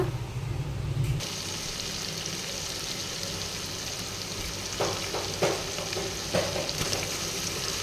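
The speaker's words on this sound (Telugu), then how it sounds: "ఇక్కడ చికెన్ కోసం తాలింపు అయితే పెట్టిన" Tempering for bagara chicken curry fries in a pan with a continuous close sizzle, punctuated by a few clinks and stirring scrapes. A quiet voice is faintly present.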